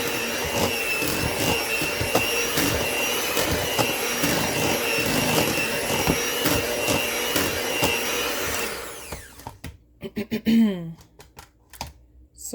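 Fruit being mixed into a rum-soaked Jamaican fruit cake batter, likely with an electric mixer, giving a loud steady whirring drone with repeated rhythmic thumps, which stops near the end, leaving brief clatter and a short voice.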